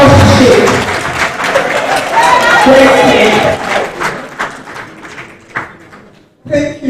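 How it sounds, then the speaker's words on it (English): A crowd applauds, clapping loudly at first and then thinning out and fading, with voices mixed in. "Please a round of applause."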